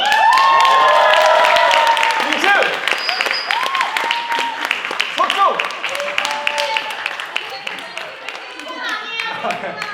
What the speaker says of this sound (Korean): 아직도 박수 소리가 나온다고요?